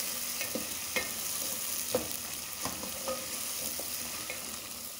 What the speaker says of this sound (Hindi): ऑयल गरम हो चुका है, तो अब हम फ्राई कर रहे हैं।